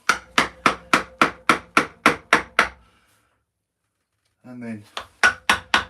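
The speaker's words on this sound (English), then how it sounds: "it's the same theory as you digging a groove in here, but you're just doing it with a chisel instead of a Dremel" A mallet strikes a chisel as it carves a groove in wood, beating a steady run of sharp, loud knocks. After a pause a voice speaks briefly, then the tapping resumes.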